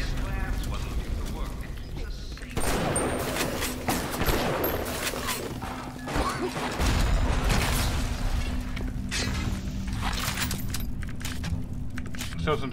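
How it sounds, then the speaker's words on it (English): Gunfire and explosions burst out in a frantic Bioshock Remastered firefight, with repeated rattling shots and booming blasts over a steady low hum, while a person talks over the action. "What is it with all these explosions?"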